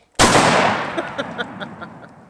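A Benelli SuperNova 12 gauge shotgun fires a single loud, close blast outdoors in open country, and the boom rolls away in a long echoing decay.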